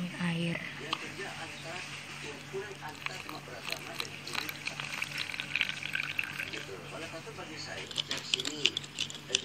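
Warm water is poured onto borax for slime, a soft, steady trickling and splashing heard faintly at close range throughout.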